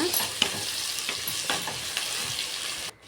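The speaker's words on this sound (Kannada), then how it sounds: "ಆಮೇಲೆ ಒಂದು ಟೊಮೊಟೊ ಹಾಕ್ಕೊತಾಯಿದ್ದೀನಿ. ಹಾಕಿ ಅದನ್ನು ಫ್ರೈ ಮಾಡೋಣ" Tomato frying in oil with onion, cumin and green chilli for egg vegetable masala noodles, a close, even sizzle with repeated spatula stirs, ending abruptly near the end; no voices.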